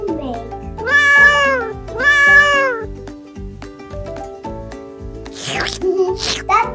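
Cat meowing on a French farm, two long, drawn-out meows in quick succession, loud and close, followed by quieter rustling and breathy noises.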